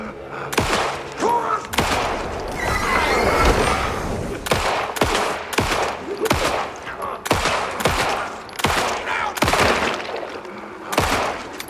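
Repeated close gunshots from the horror game Alan Wake 2, a string of sharp single shots at an uneven pace, fired at a multi-headed monster over a background of rumbling noise.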